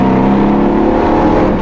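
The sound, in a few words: Shelby GT500 Eleanor engine revving past 4000 rpm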